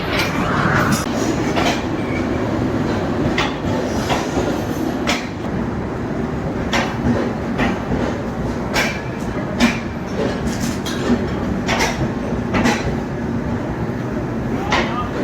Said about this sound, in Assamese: এয়া ট্ৰেইনখন আহি পাইছে এতিয়া চণ্ডীগড় এক্সপ্ৰেছ হয়